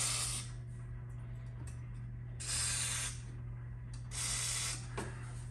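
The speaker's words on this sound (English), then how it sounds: "I'm going to spray into these holes here that are in the seat frame." Lubricant sprayed from an aerosol can into the holes and seat track of a John Deere X320 lawn tractor's frozen seat frame: three close hissing bursts, the first and last brief and the middle longer, over a steady low hum, no talking.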